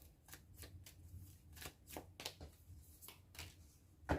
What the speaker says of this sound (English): I'm just going to pull one from here saying pull one card.